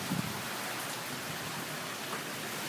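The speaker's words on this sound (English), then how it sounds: "I wish it wasn't raining." Steady rain falls in a hissing, even wash of drops, close and continuous with no talk over it.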